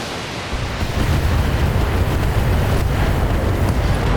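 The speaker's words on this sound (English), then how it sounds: "SRM explosion, a headshot. Critical hit." An SRM missile blast from the BattleTech video game comes as a loud, sustained roar of broad rumbling noise, booming low and steady for several seconds with no talk over it.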